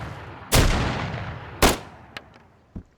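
Loud gunshots ring out in a survival video game: two heavy booming shots with long decaying tails, then two sharper, fainter cracks, close and isolated with no talking.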